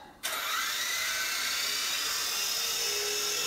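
A Sky Rover Vigilante 3-channel 2.4GHz RC helicopter spins up and flies indoors, its small motor and rotor sending out a steady, high whirring drone that starts abruptly and holds close and loud throughout.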